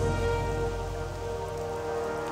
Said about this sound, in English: I need the rain to go away.